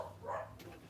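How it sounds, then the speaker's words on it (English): Dogs bark briefly at moderate distance, with a short yelp or whimper rising out of a low background hum; the sound is short and soft rather than loud. "To take care of not only those dogs barking, but also myself."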